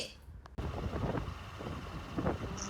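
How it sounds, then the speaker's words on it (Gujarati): Strong wind blows outdoors, rumbling and buffeting close against the microphone in a loud, steady roar after a brief quieter moment at the start. "આજે વાતાવરણ બહુ પવન છે, ફૂલ પવન વાઈ રહ્યો છે."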